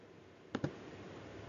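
Two quick, soft mouse clicks land close together against a quiet background while settings are changed on a Windows 11 computer.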